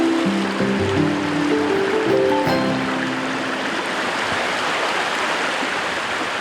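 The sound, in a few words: stream water flowing in a deep Jeju valley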